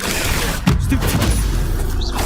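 A Stupefy spell fires in Hogwarts Legacy, a heavy booming blast with a thump near the middle of a dense stretch of game combat noise, loud and close.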